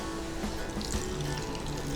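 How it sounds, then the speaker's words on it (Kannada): Water is poured into a tava pan while cooking, just before milk is heated for a Karkala halwa; a faint, steady trickle and splash runs for about two seconds with no voices. "ಸ್ವಲ್ಪ ನೀರು ಹಾಕಿ,"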